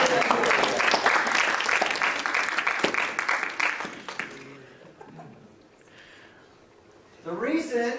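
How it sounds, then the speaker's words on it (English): An audience applauds tasters after a salt and flavor comparison demonstration, steady clapping for several seconds that fades out before a voice starts speaking at the end. "Let's give them a round of applause."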